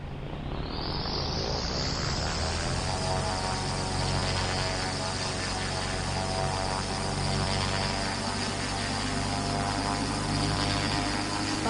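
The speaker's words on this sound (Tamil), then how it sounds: "இந்த ஃப்ளைட்டில் ஏறலாம்" An airplane in the Indian Bikes Driving 3D video game spools up, a dense engine roar rising in pitch over the first seconds and then holding as a loud steady drone.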